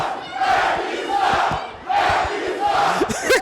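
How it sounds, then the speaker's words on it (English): Arena crowd at a wrestling event chanting in unison at the referee, a loud rhythmic two-part chant that repeats in surging waves, with a commentator's voice faintly over it near the end. "The crowd is chanting, "Ref, you suck.""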